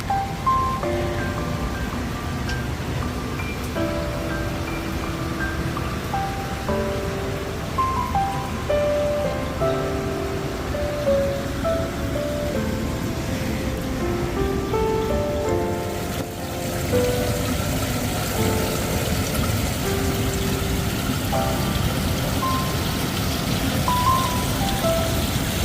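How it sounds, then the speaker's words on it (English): Rain falling at a beach at Turtle Bay on Oahu, Hawaii, a steady broad wash of rain and surf that stays loud throughout, with faint tonal background sounds mixed in and no voices. "What a rain."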